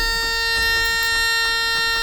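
A battery booster hooked up to an old DAF 45 car gives a steady, rapid electronic beeping, a loud pulsing tone repeating several times a second with no pause.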